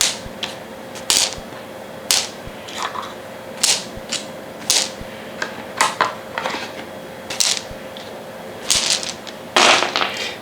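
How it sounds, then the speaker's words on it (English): Dice from the board game H.I.D.E. rattle and clack as they are dropped back into a bag, a series of sharp irregular clicks and clatters, close and fairly loud, with no talking. "you put all the dice back in the bag"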